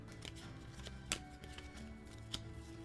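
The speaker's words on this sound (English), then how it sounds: "Let's shuffle them up." Playing cards being shuffled by hand for a board game, a soft continuous riffle and rustle with a couple of sharper snaps, close and fairly quiet, with no talking.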